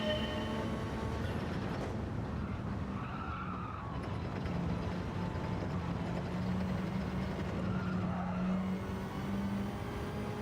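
A race car circles the Kyoto circuit in Gran Turismo 7, its engine droning steadily with rising and falling pitch and continuous tyre noise throughout, no voices.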